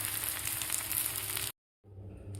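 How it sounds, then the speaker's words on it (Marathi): A green moong and spinach thalipeeth roasts on a hot pan with a soft, steady sizzle. The sizzle stops abruptly for a brief silence, then returns more quietly. "आता हे सुद्धा थालीपीठ आपल्याला व्यवस्थित भाजून घ्यायचं आहे"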